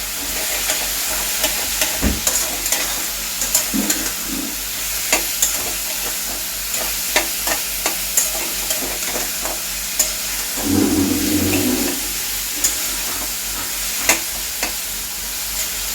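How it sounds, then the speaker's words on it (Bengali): Cumin powder and green chillies frying in a covered pan: a dense steady sizzle with scattered spatter pops, occasional soft clunks and a low rumble near the middle, close and fairly loud, with no voices. "একটু ঢাকা দিয়ে দিয়ে এগুলো একটু ভেজে নিচ্ছি"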